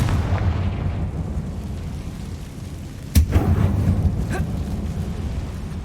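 A Confringo fire spell explodes in Hogwarts Legacy inside an old closed mine resembling a tomb, one sharp loud blast cutting through a steady low rumble, followed by a softer burst about a second later.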